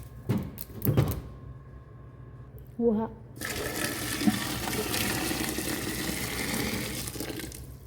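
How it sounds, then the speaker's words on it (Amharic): Water runs steadily into a cooking pot that already holds chicken. A brief knock and some clatter come first, then a continuous rushing pour of moderate loudness that lasts several seconds. "ውሃ እንጨምርበታለን ብዙ ውሃ ስለሚያስፈልግ"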